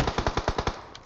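Quick burst of about seven rifle shots in PUBG Mobile, evenly spaced and loud, then a single fainter shot after a short pause.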